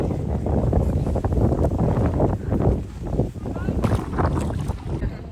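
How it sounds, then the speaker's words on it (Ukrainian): Strong, gusty wind buffets the microphone in loud continuous roaring bursts, with a voice talking faintly underneath. "Бачите, такий вітер, що нічого зняти не можна."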